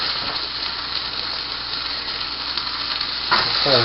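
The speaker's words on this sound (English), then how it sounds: "Mix it around there, let it saute in." Stuffed lamb breast sautés in a pan with a loud, dense, continuous sizzle, with a brief stirring scrape near the end.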